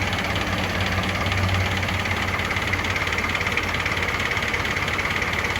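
A 1960 Isuzu Elf classic truck sits idling, its engine giving a steady, loud, close knocking rumble that stays unbroken throughout.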